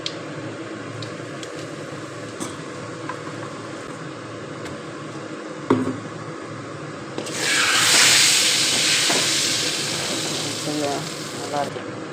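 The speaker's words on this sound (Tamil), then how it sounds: "சின்ன கடுகு போட்டு தாளித்து கடுகு பொரியுது" Small mustard seeds splutter and crackle in about 250 grams of hot oil for a narthangai citron pickle tempering, a quiet kitchen hum giving way midway to a loud, close, hissing sizzle that slowly fades.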